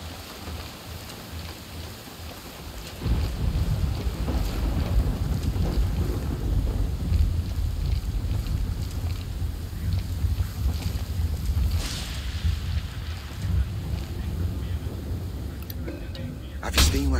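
Wind and steady rain in the video game Ghost Recon Wildlands form a dense, constant wash of noise that swells louder after a few seconds, with low gusty rumble and occasional faint game sounds.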